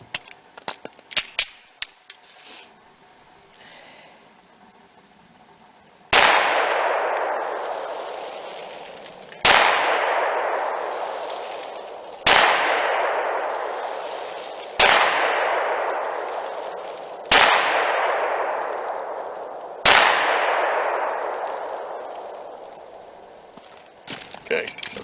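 .45 Super pistol shots at an outdoor range, five loud sharp reports spaced a few seconds apart, each ringing out with a long decaying echo, following some earlier clattering handling noises.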